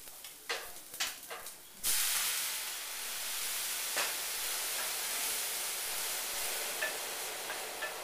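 A stir fry in a pan gives a few sharp crackles, then a sudden loud burst of steaming hiss and sizzle that settles into a steady, fairly quiet spray of frying noise.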